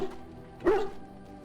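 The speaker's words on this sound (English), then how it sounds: "Pet the dog." A single dog bark sounds in the video game Dragon Age: Origins, one short mid-pitched bow-wow over a low steady game ambience.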